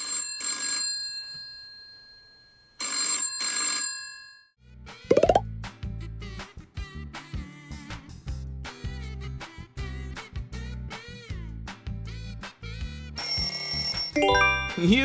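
An old-fashioned telephone ringtone plays as a quiz sound: a sparse tonal ring first, then a busier electronic melody of repeated notes and chimes, loud and clear, with no talking.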